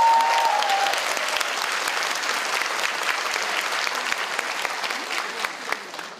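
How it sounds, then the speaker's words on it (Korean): Loud, sustained audience applause at a Korean political party forum on childcare policy, many hands clapping densely and evenly across the whole stretch, slowly easing toward the end. "여러분들, 우리 문재인 대표님께 젊은 기 좀 주시고 더 열심히 하시라고 다시 한번 뜨거운 박수 한번 부탁드리겠습니다."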